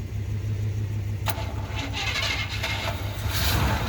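An old Chevrolet Suburban, unused for years and primed with a little gas and a fresh battery, cranks and then catches, its engine firing up and running unevenly near the microphone.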